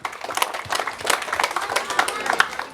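An audience applauds a child contestant at a children's scripture-reading competition, lively clapping under a room full of voices and crowd noise.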